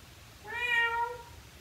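A single drawn-out meow from a person imitating a cat, rising then falling, clear and close against a quiet background.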